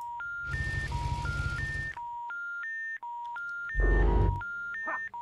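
Touch-tone telephone keypad beeps from a phone in the Hello Neighbor game, a steady sequence of stepped tones dialing a number, with two louder bursts of rumbling game noise breaking in.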